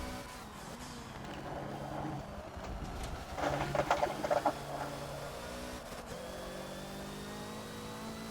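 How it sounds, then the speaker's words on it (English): A Hoonigan Ford Focus racing around Brands Hatch in Forza, engine buzzing steadily and then rising into a sharp stuttering burst as it bounces off the rev limiter midway before settling back. "Hit the rev limiter there."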